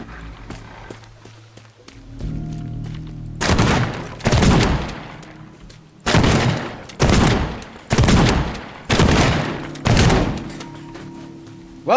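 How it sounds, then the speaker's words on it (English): Shotgun blasts in the video game Teardown boom loudly at irregular intervals, about eight heavy shots with short gaps between them, over a low hum of game ambience. "they definitely won't hear a shotgun"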